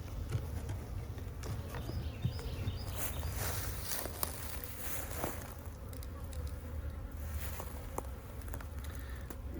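A dense, low buzzing hum of a honeybee swarm inside a box fills the background steadily, with scattered soft taps and knocks over it.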